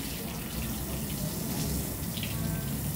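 Tap water runs steadily into a sink while arms are rinsed during a surgical hand scrub, a continuous close splashing hiss with no pauses.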